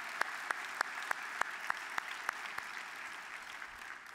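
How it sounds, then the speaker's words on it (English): Audience clapping at the 2017 Vision Awards, faint and distant, with one clear steady rhythm of evenly spaced claps over a soft bed of wider applause that thins toward the end. "Let's all give Cheryl a round of applause"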